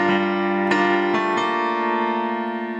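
A piano plays the opening phrase of a song, chords struck loud and close and then left to ring out, with no voice.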